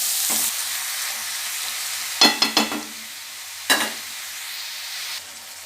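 Cabbage being stirred with spices in a pan for a fish-head cabbage curry, giving a few short bursts of scraping and clattering over a faint steady sizzle, with quiet stretches in between.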